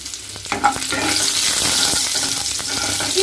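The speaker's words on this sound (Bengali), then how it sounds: "ফোড়ন দেব, 5 ফোড়ন, কাঁচা লঙ্কা চেরা দিলাম" Panch phoron spices and slit green chilies fry in hot oil in a pan, giving a loud, steady, dense sizzle that swells just after the start, with a few faint stirring scrapes, close and continuous.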